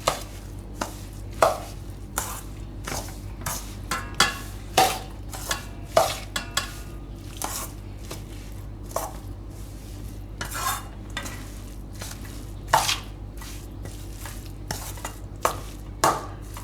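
Cucumber idli batter is mixed in a bowl with a spoon, producing a steady series of soft, regular scraping and clacking strokes, close and fairly quiet with no talk.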